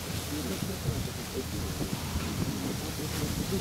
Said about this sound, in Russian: ветер сильно дует